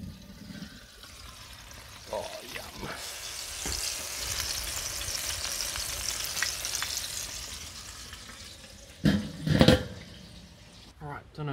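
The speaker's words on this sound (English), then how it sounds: "The pork is sizzling away." Pork sizzling steadily in a pan at a campsite, a bright crackling hiss that carries on for several seconds, followed by a brief burst of voices and clatter near the end.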